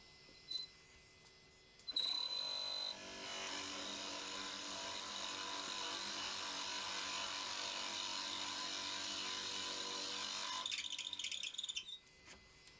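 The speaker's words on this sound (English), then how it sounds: "this is the first time that I've ever used this tailstock extender for drilling" Drilling out the center of a maple vase on a woodturning lathe with a tailstock extender: a steady, even grinding whir holds for about eight seconds after a few clicks, then stops, with faint handling clatter at the end.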